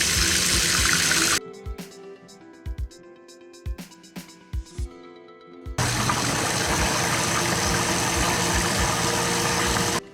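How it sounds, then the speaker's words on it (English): A Waste Maid 058 half-horsepower garbage disposal runs with tap water flowing, a loud broadband rush that stops abruptly, leaving several short clanks and knocks, then surges back in steady and close for the remaining seconds. "run the water, check for leaks, and then also turn on the unit and give you an idea of how it sounds"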